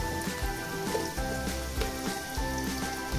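Cut potato pieces go into a pan of hot frying onions for dry chicken, setting off a loud, steady sizzle with rhythmic low thumps as the pieces are tossed, no voices.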